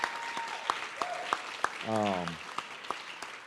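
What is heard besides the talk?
applause for the cheer team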